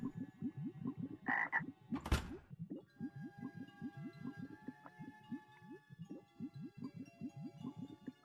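In a video game, a frog placed in a witch's oven croaks in a fast, steady run of low, rhythmic croaks, close and clear, briefly interrupted by a couple of brighter squeaks and a sharp thump.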